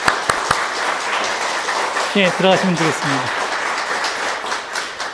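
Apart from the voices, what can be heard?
applause in church congratulating members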